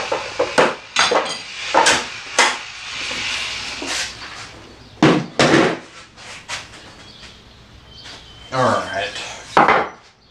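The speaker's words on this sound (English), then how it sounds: "Let's go ahead and bring out all the chisels." Chisels clatter and knock as they are brought out and handled in a home woodshop during a spice rack build, giving a series of irregular, close wooden and metal taps and clunks with no talking.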